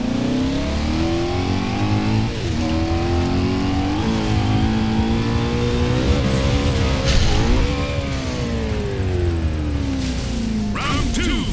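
A car engine in Forza Horizon 4 revs and climbs through gears, rising and falling in pitch over several shifts, loud and continuous, with a brief clatter near the end and occasional voice underneath.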